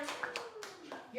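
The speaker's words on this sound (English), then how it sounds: "round of applause to administration" Short burst of audience clapping for the school administration at an elementary school family literacy night, a few distinct hand claps over a murmur of voices in a room.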